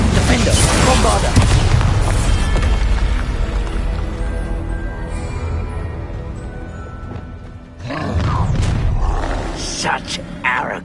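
Bombarda spell blast in a Harry Potter video game, heavy booming explosions rolling into a long roaring rumble, then another loud burst with crashing debris, all close and forceful.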